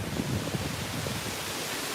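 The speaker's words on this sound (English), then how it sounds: "And it's windy as hell." Wind blows hard and steadily during a firewood delivery, a broad rushing roar buffeting the microphone with low rumbles.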